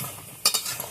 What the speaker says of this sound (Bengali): এখন খুব ভালো করে কষিয়ে নেব।